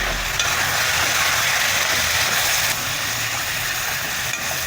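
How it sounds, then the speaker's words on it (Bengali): Chicken pieces seasoned with salt and turmeric frying and being stirred in a pan for dhaba-style chicken masala, a steady close sizzle with soft scraping throughout and no talk. "একটু নেড়ে নেব"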